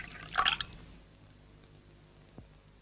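Tea is poured briefly at the start, a short splashing trickle that fades quickly into a quiet room, followed by one faint drip near the end.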